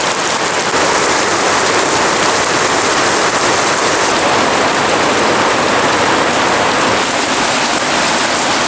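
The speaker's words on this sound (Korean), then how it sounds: "비가 점점 많이 오기 시작해요" Heavy rain pours steadily at a dog-friendly campsite during a downpour, a dense continuous hiss of drops drumming on surfaces and a flooding deck, loud and close with no talk.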